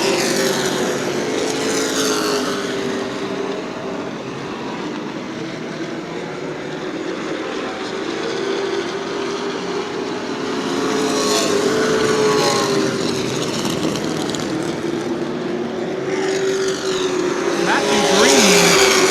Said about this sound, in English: Leaders still working their way around the track as they make their way around the slow traffic.